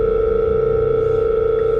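A phone call rings out unanswered, a steady electronic ringback tone droning continuously and fairly loud, with no voices.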